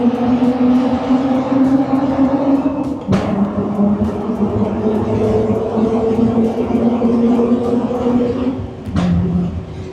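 A Mazda RX-8 engine drones loudly and steadily, rising and falling in pitch as it revs, with two brief gear-shift breaks along the way.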